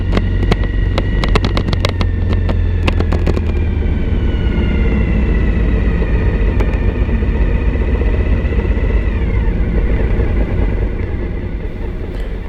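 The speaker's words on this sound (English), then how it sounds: "Here I'm doing a lot of engine braking just to slow the bike down" Suzuki V-Strom DL1000 motorcycle engine heard while riding and engine braking, a loud continuous drone with a descending pitch as the bike slows, mixed with heavy wind rush across the whole stretch.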